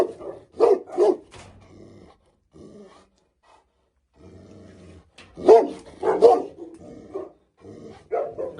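A Rottweiler at a large Rottweiler breeding farm in Egypt gives several deep, gruff barks with low growls, coming in short bursts near the start, again near the middle and briefly at the end, with quiet pauses between.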